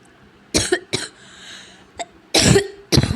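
Four harsh, close coughs come in two pairs, separated by a short quiet gap.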